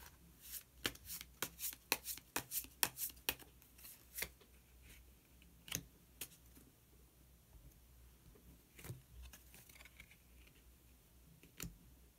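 Tarot cards shuffled and drawn at close range, a quiet run of crisp riffling snaps and flicks, dense at first and then sparser, with isolated taps between; no one speaks.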